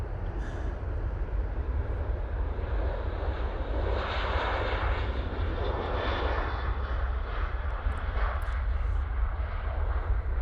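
A Ryanair Boeing 737-800 roars down the runway on its takeoff roll at Manchester Airport, a loud, steady, broadband jet rumble held the whole time.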